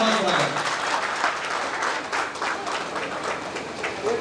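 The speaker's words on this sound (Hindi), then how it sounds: "तालियां बजती रहें। बहुत स्वागत।" Dense crowd applause rolls through a felicitation ceremony for students after a test result, with a steady clatter of many hands clapping while a voice speaks over it at times.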